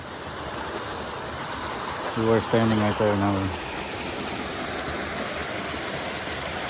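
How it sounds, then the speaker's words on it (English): Continuous broadband rush of a waterfall and stream on a hiking trail at Switzer Falls, California, loud and steady throughout, with a person briefly speaking over it. "that other waterfall is right around that corner"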